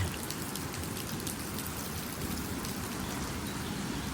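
Heavy rain pours down steadily, a dense and loud wash of drops on surfaces with no pauses.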